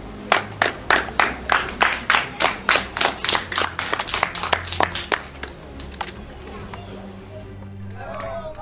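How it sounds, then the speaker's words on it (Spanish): A small group claps briskly for a law graduate at a ceremony, the claps close and distinct for about five seconds, then fading into murmuring chatter. "Y ahora un fuerte aplauso al siguiente licenciado en Derecho, Ramón Barros Luco"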